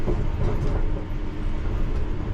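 London Underground train rolling over points at slow speed, heard from inside the cab as a loud, rough, continuous rumble with rattling and clattering from the wheels.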